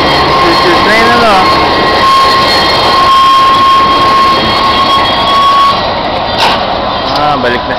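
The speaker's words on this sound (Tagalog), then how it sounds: "Choo-choo train." A train in Skagway rolls past loud and near, a continuous heavy rumble carrying a steady tone and brief rising whistle-like sweeps, with voices faintly in the background.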